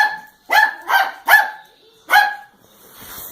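Cattle dogs herding a poodle give four sharp, close barks in an uneven rhythm, each short and loud, followed by a fainter rustle, with no talking.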